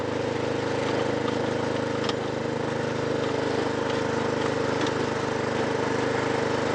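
A Snapper riding lawn mower runs steadily near the listener, a constant mid-pitched engine drone with a slight rattle and no break or change in speed throughout.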